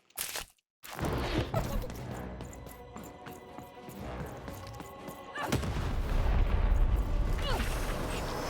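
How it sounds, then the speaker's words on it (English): Cannons fire in the video game Lost in Random, heavy booming blasts layered over game music and effects, growing louder and denser in the second half after a brief silence near the start. "lead your playing piece onto the appropriate tile in order to fire your cannons"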